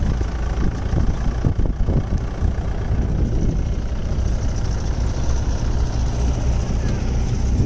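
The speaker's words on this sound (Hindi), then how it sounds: "यहाँ पे आप देख सकते हो मोनाली भाई अपनी जीप चलाते हुए" A jeep engine runs on a Thar desert safari, a loud, steady low rumble close by that holds through the whole stretch with no letup.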